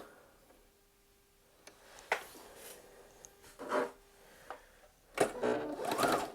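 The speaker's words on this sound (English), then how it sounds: "So I do a back stitch and then get going again." A sewing machine running a back stitch on the tapered leg of a pair of pants, short bursts of rapid whirring stitching that start and stop, quiet and close, with no talking.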